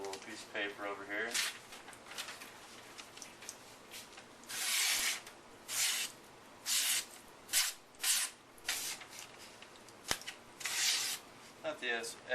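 Sujihiki kitchen knife, freshly sharpened on a 1K stone, slicing through a small piece of paper: a series of short, bright rasping swishes in separate strokes, up close, with background noise between cuts.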